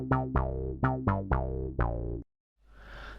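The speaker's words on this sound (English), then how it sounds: "Here we have a basic little sequence panned with a triangle wave" A short synth sequence of plucky, bright notes, panned by a triangle-wave LFO, repeats in quick succession, then cuts to silence before a soft hiss fades in.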